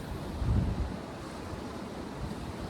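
Pacific Ocean waves on the Sonoma coast of Northern California, a continuous rushing wash of surf that swells briefly early on, mixed with steady wind buffeting the microphone.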